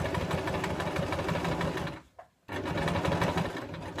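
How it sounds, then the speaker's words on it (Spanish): A sewing machine stitching a denim patch bag runs loud and steady, pauses briefly as the machine is turned at a corner, then resumes its rapid mechanical whirr. "giro la máquina, hago bien el bordecito y sigo cosiendo"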